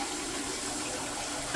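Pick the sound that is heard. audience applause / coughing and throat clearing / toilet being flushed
toilet being flushed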